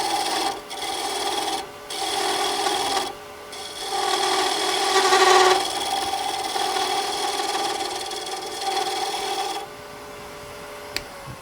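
A skew chisel turns down the tenon of a wooden spindle on a lathe, giving a close, steady scraping rasp in long bursts with short pauses over a faint motor hum, ending in one sharp tick.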